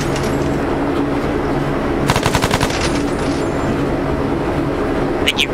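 Machine gun fire in a combined arms military video game, a rapid burst of sharp repeated shots rising over a loud, continuous vehicle rumble, with a second short rattle near the end.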